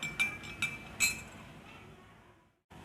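Spoon clinking against a glass bowl while stirring food colouring into water, a few bright taps close together at first, then quieter swirling that fades out.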